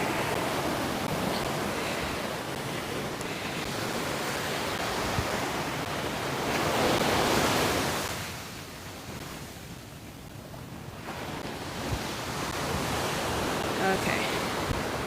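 Ocean waves wash steadily onto the shore at Waikiki as broad, continuous surf noise that swells and briefly fades midway, with light wind buffeting on an outdoor afternoon walk.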